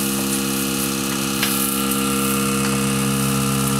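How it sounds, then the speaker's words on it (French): A goat milking machine on a goat farm drones continuously with a steady motorized hum and tonal whine, with faint clicks and knocks in the background. "le bruit qu'on entend en arrière-fond, là, c'est la machine pour traire les chèvres"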